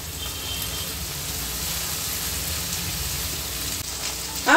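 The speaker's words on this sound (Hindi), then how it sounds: "इसे मैं लाइट गोल्डन होने तक फ्राई करूंगी।" Liver frying in a pan with curry leaves, a steady close sizzle and hiss that runs evenly throughout, with a brief louder burst at the very end.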